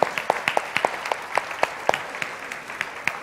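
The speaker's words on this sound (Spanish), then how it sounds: "Un aplauso, muy bien," Sparse applause at a tai chi demonstration during an expo: a small group claps in a loose, uneven rhythm of distinct individual claps, fairly close and moderately loud, with no talking.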